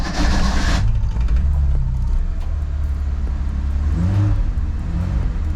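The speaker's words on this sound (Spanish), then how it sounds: "Damos el contacto, tiramos un poquito del aire porque estamos en frío y yo le doy un par de toques al acelerador" A car engine, started cold with the choke pulled, runs loud and close: a roaring rev that drops back to a rough, steady idle, then swells again toward the end.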